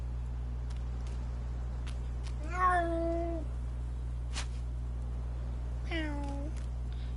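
Cat meows twice, each a drawn-out falling call a few seconds apart, heard against a steady low hum and faint background clicks indoors.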